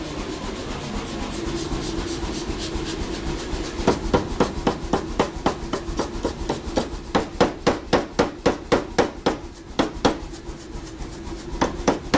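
A hammer strikes hot stainless steel during forging, a steady series of sharp, ringing blows that grow quicker and more even, with a low background hum.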